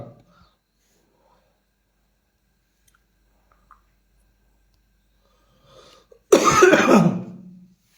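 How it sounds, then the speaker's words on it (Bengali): One person with a cold gives a single loud, rough cough burst after a long near-silent stretch, preceded by a faint breath. "কাশি আসতেছে।"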